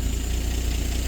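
The 70-year-old engine of a 1954 Chevy Bel Air, revived after sitting for 40 years, idles nearby. It makes a loud, steady, low rumble with an even pulse and no voices.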